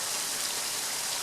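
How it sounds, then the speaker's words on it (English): Steady monsoon downpour falling on a street and filling a ditch, a dense, even hiss of heavy rain close by with no pauses and no voices. "Well, it has been raining now non-stop about 15-20 minutes,"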